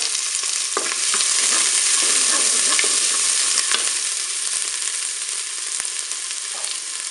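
Onions frying in a Cookeo multicooker, a loud, dense, even sizzle with faint occasional clicks of stirring, continuous and close throughout.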